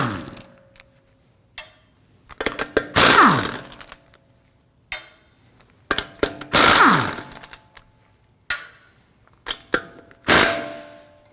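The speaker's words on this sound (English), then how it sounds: "we can remove our lug nuts with a 22mm" Lug nuts on a 2016–2022 Honda Pilot front wheel loosened with an impact wrench and 22mm socket, loud whirring bursts separated by clinks and clanks of metal parts, close and repeated several times.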